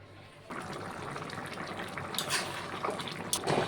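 Water is poured into a cooking curry of prawns and Malabar spinach. A soft gushing, bubbling rush starts suddenly and keeps going steadily at a moderate level, with no talking.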